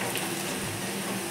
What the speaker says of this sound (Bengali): দেখো, আলু পেঁয়াজটা ভালো করে ভাজা হয়ে গেছে